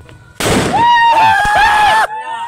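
A firecracker bursts loudly and close during Tihar festival celebrations, a sharp bang followed by a long crackling and whistling sputter that cuts off abruptly, with background voices nearby.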